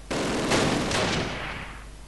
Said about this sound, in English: Still shooting back at us